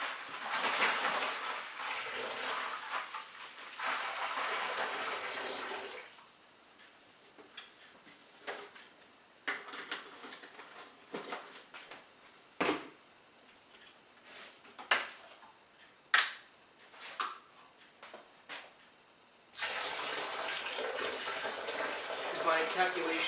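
Apple juice poured into a pot of hot liquid for cider, a steady close splashing rush in two bursts with quieter clinks, taps and handling noises in between.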